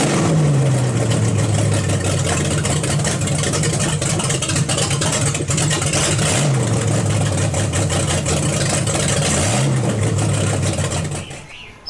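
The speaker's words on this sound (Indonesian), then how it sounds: "Suaranya yang udah cam-nya udah dioprek gitu, yang kayak orang goreng popcorn gitu." A 454 cubic-inch V8 taken from a boat, fitted with a modified cam, runs loud and close with a choppy, lumpy idle. It gives two brief revs partway through and stays steady until it cuts off at the end.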